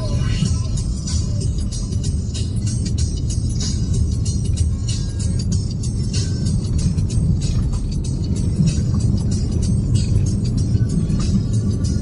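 A car drives on a highway toward Malshej Ghat with other traffic around, a steady loud engine and road rumble from inside the vehicle throughout.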